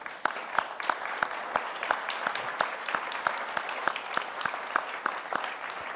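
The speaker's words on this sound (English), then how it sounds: "Please join me with a round of applause." Audience applause at the close of a panel at the Arms Control Association's 2023 annual meeting, a steady sustained clapping from a crowd with sharp individual claps standing out throughout.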